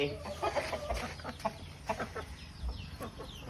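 A fighting-breed hen clucks in short, repeated bursts close by, with brief softer calls between them and light farmyard noise in the background.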